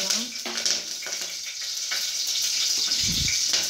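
Green chillies frying in hot oil with whole spices such as fennel, a soft steady sizzle close by, with a brief low stirring thump near the end.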